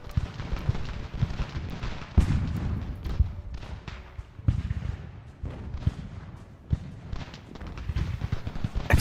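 Artillery booms again and again in Ultimate General: American Revolution, a battle of the Continental Army. The heavy thuds come at irregular intervals over a constant rumble of distant battle, with no talking.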